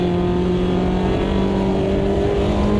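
A front-wheel-drive Mini race car in Automobilista 2 at Guaporé holds a steady, loud engine drone, its pitch nearly constant with a slight rise, heard close up with no other sounds.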